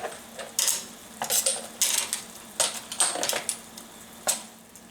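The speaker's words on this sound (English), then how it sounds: "I'm just going to grab each one of them and just place them aside in this bowl right here" Clams being set one at a time into a bowl, giving a series of hard clicking clinks of shell against dish, irregular and close, about a dozen taps over several seconds.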